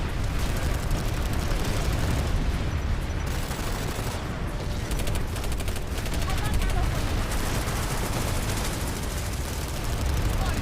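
Sustained gunfire in PlanetSide from a P90-like rapid-fire weapon, a dense continuous rattle of shots mixed with explosions and battle noise, loud and unbroken across the whole stretch, with voices faintly underneath.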